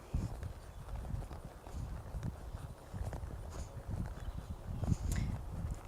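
Horse hooves clop at a sitting trot in a steady rhythmic series of muffled thuds, fairly close and moderately loud over a soft ambient background.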